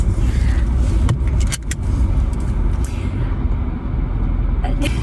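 Hyundai Santa Cruz pickup creeping into position on desert dunes at a rally, a steady low engine and tyre rumble with a few sharp knocks and rattles, close and continuous.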